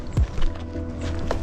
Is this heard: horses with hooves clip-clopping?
yes